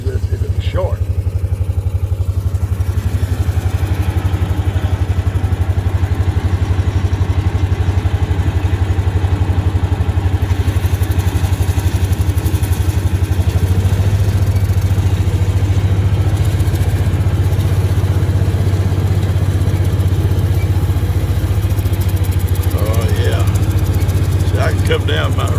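A riding mower engine runs steadily throughout while grass is mowed outdoors. The drone is loud, low and continuous, with a fairly constant pitch and occasional slight shifts in load.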